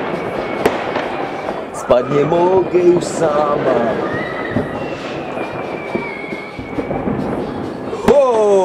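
New Year's Eve fireworks burst all around, a dense barrage of loud booms and crackles continuing throughout, with people talking and exclaiming over the noise.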